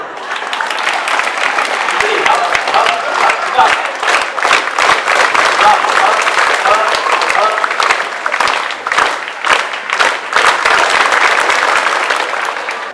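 A crowd of students at a school civic-education session led by a district military commander applauds loudly and steadily for about thirteen seconds, dense clapping filling the room with no break.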